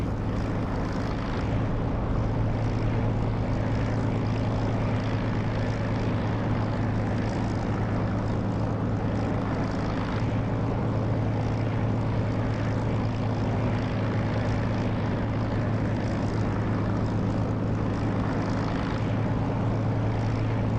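An aircraft in the DCS flight simulator drones with a steady, loud propeller-like engine roar and a constant low hum that holds unbroken throughout.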